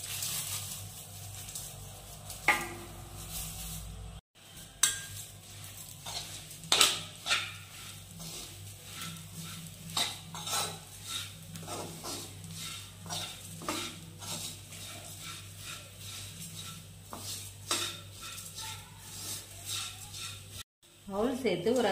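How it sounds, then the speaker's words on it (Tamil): Aval (flattened rice) being dry-roasted and stirred in a pan for kesari, with a spoon scraping and clinking against the metal in irregular strokes under a steady low hum, close and moderately quiet. "நம்ம அவல் சேர்த்து வறுத்துக்கலாம்."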